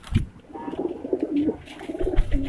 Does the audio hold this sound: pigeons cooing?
yes